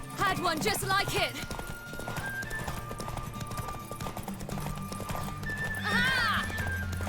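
A horse in The Witcher 3 game whinnies loudly near the end while its hooves clip-clop in a steady rhythm throughout, under spoken dialogue and background music.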